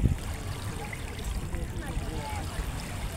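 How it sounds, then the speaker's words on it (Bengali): Waves washing steadily against a lake shore, a continuous close splashing and gurgling of water with no breaks and no voices. "বন্ধুরা এই যে ঢেউয়ের শব্দগুলো দেখেন কেমন"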